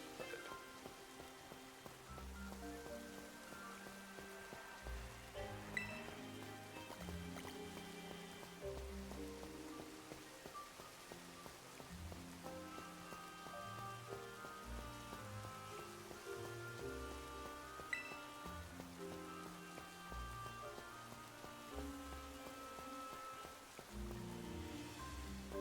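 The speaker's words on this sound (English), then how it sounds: "Why does it have to be raining?" Steady rain pours down in a Pokémon video game, a constant hiss running through the whole stretch beneath looping background music.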